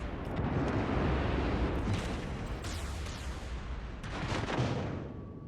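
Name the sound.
warship secondary guns firing in video game World of Warships Legends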